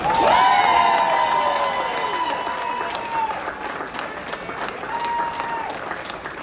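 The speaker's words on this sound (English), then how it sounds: "a huge round of applause for Thunderbird 12" An outdoor crowd claps and cheers for Thunderbird 12 of the 2023 United States Air Force Thunderbirds, loud at first then settling into steady applause, with shrill whistles and cheering voices rising above it.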